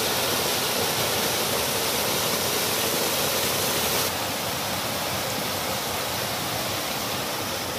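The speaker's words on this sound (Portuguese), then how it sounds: "Uma outra queda d'água aqui, ó" A waterfall on a stream at Goiabol in Bom Jardim: a steady, full rushing roar of falling water, close and continuous, with no voices.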